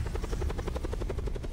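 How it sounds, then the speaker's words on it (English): Helicopter in the Call of Duty Black Ops 4 Blackout mode, its rotor beating in a steady, loud rapid chop close by with no talk over it. "You're shooting your own helicopter."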